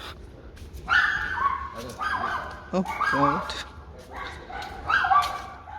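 Dogs bark and whimper on a cobbled street leading to Warsaw's old town, several repeated barks and yips at moderate distance, with a person's brief exclamation among them.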